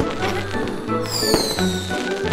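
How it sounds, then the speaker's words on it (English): Cartoon fireworks pop and crackle in a short, busy burst, with a whistling streak rising over bright bangs and music, close and loud. "Look at those colorful fireworks!"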